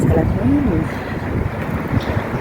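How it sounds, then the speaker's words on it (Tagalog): Low rumbling gusts of strong wind buffet the microphone, steady and loud throughout, with a voice faintly talking underneath. "naririnig niyo guys, ang lakas ng hangin."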